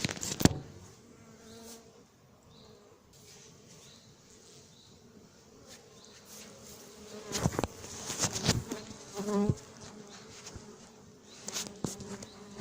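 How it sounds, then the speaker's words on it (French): Many honeybees buzz steadily close by around a hive, a dense droning hum with occasional louder passes near the microphone and some handling noise. "Il y a plein d'abeilles qui normalement n'ont pas pu rentrer dans la ruche."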